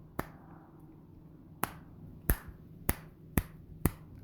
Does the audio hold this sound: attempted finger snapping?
yes